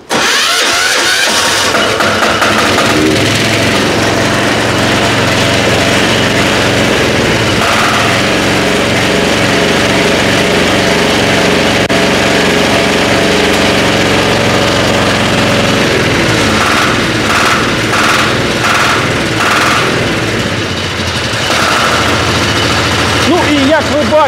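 A small 14-horsepower single-cylinder walk-behind tractor engine runs steadily throughout in cold weather, a loud chugging idle, with someone talking over it.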